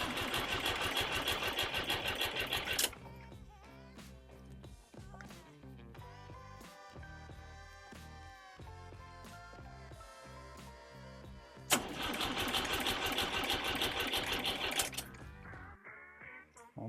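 A Massey Harris Pony tractor engine, long unused and coming out of a barn, running at three-quarter throttle with a slack throttle cable, a steady mechanical drone that swells louder at the start and again near the end.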